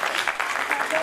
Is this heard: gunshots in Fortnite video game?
no